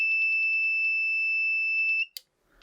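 A stud finder emits a continuous high-pitched electronic tone with a faint pulsing pattern, held steadily for about two seconds before stopping abruptly with a short click.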